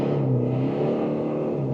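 New Toyota Prado Land Cruiser with 8-speed automatic accelerating in first gear, a steady rising engine whir and rumble heard from inside, continuous and moderately loud with no talk.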